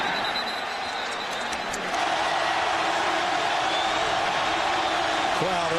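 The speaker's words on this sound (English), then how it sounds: "Crowd urging on the defense." A college football stadium crowd roars steadily to urge on the Alabama defense, a broad far-off wash of noise that swells partway through and holds, with no clear single voices.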